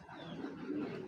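A female tiger grizzle racing pigeon coos softly and steadily at close range, a low continuous murmur that fills the whole moment.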